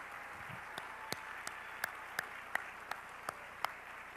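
Sparse, scattered hand claps at a dinner gathering, a few distinct claps spaced roughly evenly over a soft room hum, faint and somewhat distant.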